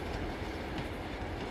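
A moving train in the video game Uncharted 2 makes a steady, dense rumble and clatter of wheels on rails, close and continuous at moderate loudness, with no talking.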